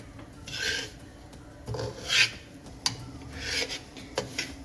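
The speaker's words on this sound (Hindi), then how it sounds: "सूजी को भूनने के लिए आपने इसको मुसलसल हिलाते जाना है।" A spoon or spatula rasps and scrapes through dry semolina as it roasts in a pan, in several uneven strokes that are fairly close and clear, with no talking.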